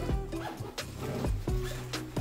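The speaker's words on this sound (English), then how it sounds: "let's open these side zips." Side zippers on a pilot's flight bag being pulled open, several quick rasping zip strokes in close succession, near and fairly loud.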